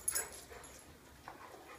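A big dog lets out faint, soft whimpers, a few brief whines spaced apart against a quiet indoor background.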